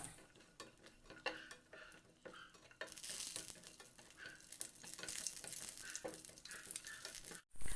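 Cashews fry in ghee in a pan, with a faint, steady sizzle, soft stirring and occasional light clinks of the pan, heard fairly distant and quiet.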